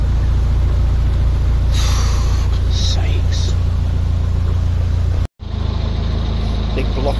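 A narrowboat's diesel engine thrashes hard in reverse as the boat works free of a block of submerged wood on a canal, a loud continuous throbbing rumble with a brief cutout, and a voice exclaims over it.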